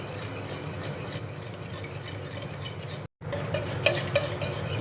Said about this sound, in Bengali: এবার এই হ্যান্ড ব্লেন্ডারটা দিয়ে ভালো করে গুলে নেব।